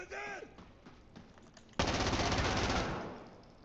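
Sustained automatic gunfire in the shooter game Insurgency Sandstorm, a loud continuous burst emptying a magazine in the second half, preceded by quieter game sounds and a faint voice.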